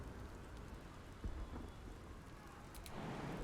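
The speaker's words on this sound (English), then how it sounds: "I believe I just heard some thunder." Steady rain and a low thunder rumble in the Baldur's Gate 3 game world, a continuous wash of rainfall with a brief thump partway through and the storm swelling toward the end, no voices.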